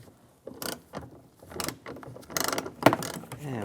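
A ratchet wrench with a T40 socket loosens a bolt on a 2002-2008 Dodge Ram 1500 door, giving several short bursts of close, crisp clicking with brief pauses between strokes.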